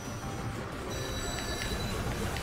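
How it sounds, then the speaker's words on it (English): A demon train thunders along in the video game Bayonetta 3, giving a dense, steady rumble with a high metallic whine and scattered ringing tones that runs unbroken and loud throughout. "straight up demon train"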